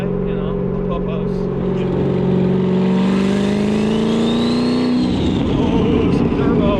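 A twin-turbo Chevrolet Corvette Z06 accelerates hard, its engine note climbing steadily in pitch with a rising turbo whistle above it, loud and close throughout before it settles into a rougher rumble near the end.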